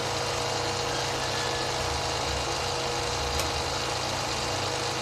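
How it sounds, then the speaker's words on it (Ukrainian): The wire feeder of an ISKRA MIG 280S welder runs with a faint, steady mechanical hum and slight vibration, continuous and unchanging with no voices. "Протяжка запрацювала. Протяжка працює нормально"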